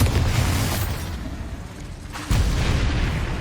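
Bombarda spell blasts from Hogwarts Legacy, a loud, booming explosion with a sharp new burst partway through, rumbling continuously under dense game noise.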